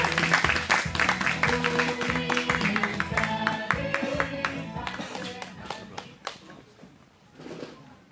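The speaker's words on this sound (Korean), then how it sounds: "큰 박수로 맞아주십시오." An outdoor protest rally crowd claps to welcome a speaker from a local committee, a dense burst of applause that thins to scattered claps and fades, with a voice briefly rising near the end.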